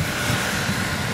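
A model jet aircraft coming in to land at a jet rally, its turbine a steady, loud rushing whine with no talk over it.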